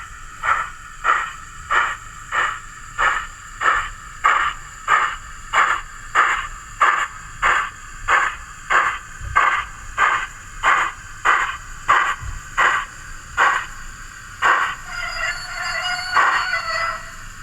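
An Oxford Rail NER J26 model steam locomotive with DCC sound in heavy mode gives a long run of evenly spaced, fairly loud chuffs over a faint steady hum. Near the end the beat breaks up into a softer hissing blow.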